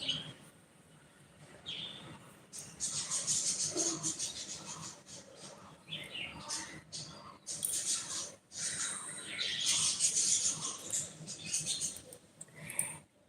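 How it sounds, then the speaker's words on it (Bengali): Birds around a house give a busy mix of chirps and squeaky calls, loud at times and quieter in between, with irregular bursts throughout. "তাদের বাড়ির পাখিগুলো এত ডাকছে"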